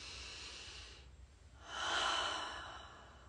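One slow, deep breath in a guided breathing exercise during a live energy healing session: a soft breathy inhale swelling into a louder, airy exhale, close and unhurried, with no talking.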